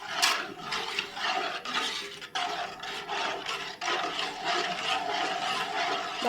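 A curd mixture with added water is stirred in a cooking pot, producing continuous scraping and rubbing strokes against the pot in an uneven rhythm, close and fairly loud with no talking.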